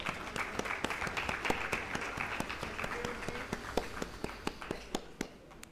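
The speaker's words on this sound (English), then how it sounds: "Let's give him a round of applause." Conference audience applause, a steady wash of many hands clapping at moderate level with sharp individual claps standing out, tapering slightly toward the end.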